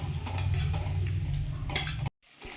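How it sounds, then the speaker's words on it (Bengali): A utensil stirs capsicum with green chilli, red chilli, tomato and soy sauces and vinegar in a pan for chilli cauliflower. Soft scraping and clinks go on steadily, then cut briefly to silence before resuming quietly. "ক্যাপসিকামগুলো একটু ভাজা হয়ে গেলে এতে হচ্ছে green chilli sauce, red chilli sauce, tomato sauce, soya sauce, vinegar সব দিয়ে এটা ভালো করে এটা মিশিয়ে নিচ্ছি।"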